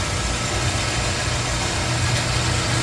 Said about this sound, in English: Still pumping it back through, cleaning it through the filter.